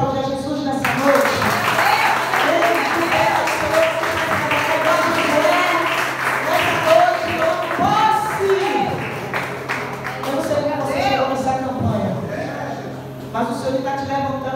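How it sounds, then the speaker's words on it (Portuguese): Church congregation clapping during an evening service, rhythmic applause mixed with music and a voice over it, sustained and fairly loud before easing off near the end. "Você pode aplaudir a Jesus nessa noite?"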